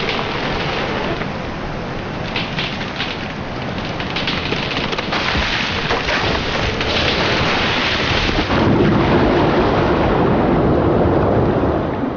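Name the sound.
storm with rain in Scotland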